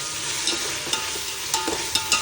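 Biryani masala sautéed in a pan, a steady sizzle broken by several close scraping stirs from a spoon, with no talking.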